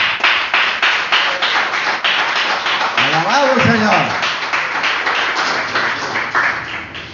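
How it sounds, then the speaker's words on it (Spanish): A Spanish-speaking church congregation claps in a steady rhythmic beat for a sustained stretch, with a voice calling out partway through above the clapping. "vamos a darle un aplauso al Rey de la Gloria"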